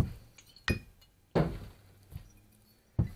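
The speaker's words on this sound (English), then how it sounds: "now I'll add my ice" Ice cubes dropped into a mixing glass, four sharp separate clinks spaced unevenly over a few seconds, close and fairly quiet with no speech.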